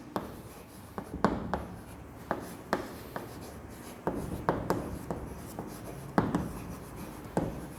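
Pencil strokes scratching across paper while drawing line projections for an engineering drawing, a steady series of short, close scratchy strokes with brief pauses between them, no voices.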